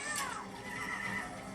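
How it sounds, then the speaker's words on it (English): A horse whinnies loudly in an action video game, a rising-then-falling neigh near the start over a steady bed of game noise, with no talk. "Oh no, I've crashed the horse."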